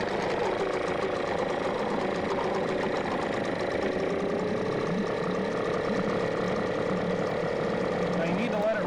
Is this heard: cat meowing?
no